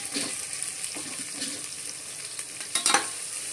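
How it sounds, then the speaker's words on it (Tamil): Onions sauté with mustard seeds in a hot pan, with a soft sizzle under intermittent stirring scrapes and a few louder clatters near the end. No voices. "வெங்காயம் நல்லா பொன்னிறமாக வதங்கணும்"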